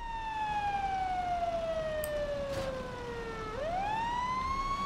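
A fire engine siren in GTA 5 wails in a long falling sweep, then snaps back up into a rising tone, loud and steady over faint traffic noise.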